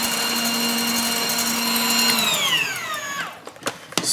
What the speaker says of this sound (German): Und jetzt lasse ich zum Schluss noch mal auf höchster Stufe kurz durchschlagen.